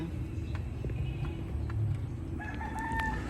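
A rooster crows outdoors against a steady background hum, with a clearer crow rising near the end.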